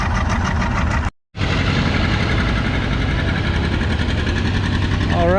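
John Deere 830 vintage tractor engine running at a farming-days pulling track, a loud, close, steady rhythmic diesel chug, cut off briefly by a short silence near one second before resuming.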